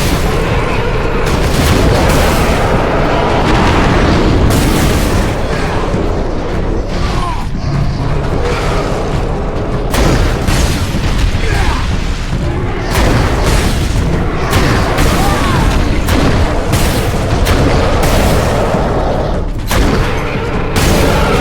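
Grenade blasts in the Warhammer 40K Space Marine video game, a sustained run of loud booming detonations and gunfire-like bursts that stays dense and near throughout, with no quiet gaps.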